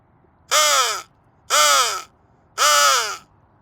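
A crow caws outdoors at about 7:40 in the morning, three loud, harsh calls evenly spaced about a second apart with quiet gaps between them.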